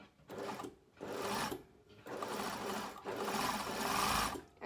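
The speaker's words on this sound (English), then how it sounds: "I'm going to sew all the way around and finish up over here" Sewing machine stitching a fabric seam around a wrap garment: close, steady whirring runs of rapid stitching in four bursts separated by brief pauses, each run longer than the last, with no talking.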